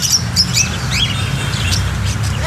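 Small birds chirp and tweet in quick, high bursts, fairly close, over a steady low rumble of background noise at an outdoor animal market, with no talking.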